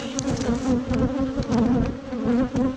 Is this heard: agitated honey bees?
yes